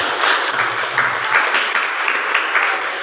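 An audience at a school curriculum training session applauding together, dense continuous clapping that stays loud and fairly even throughout, heard close with no talking over it.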